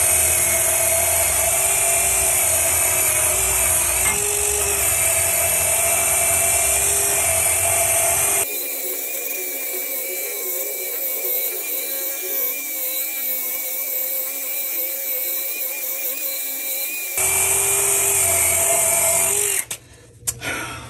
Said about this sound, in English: So I'm gonna use a wire brush, get some of that stuff off of there